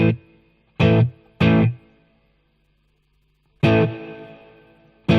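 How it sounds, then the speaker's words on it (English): An electric guitar through a Boss Katana amp with the plate reverb engaged plays four loud strummed chords with pauses between them. Each chord rings out into a smooth, lingering reverb tail. "When you have the green on, that's the plate reverb"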